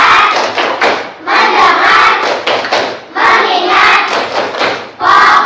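Elementary school class of fifth graders performing a patterned group clap in bursts, loud and near, with rhythmic hand thumps and claps grouped into repeated phrases separated by short pauses.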